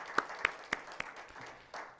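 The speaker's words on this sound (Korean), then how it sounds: "우리 박수로 하나님께 영광 돌리도록" A congregation claps during a Sunday morning worship service in a Methodist church: a few sharp, separated claps, then a brief softer patter, heard at moderate distance.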